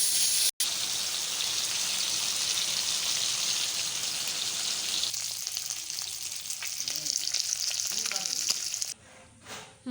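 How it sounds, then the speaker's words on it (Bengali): Pieces of rohu fish fry in hot oil, giving a loud, continuous crackling sizzle up close that thins and softens toward the end. "মাছটাকে ভেজে নেব।"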